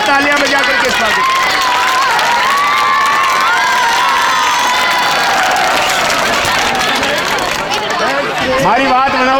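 A crowd at a religious annual festival cheers and shouts in welcome, loud and continuous, with children's voices rising above the din and a little clapping mixed in.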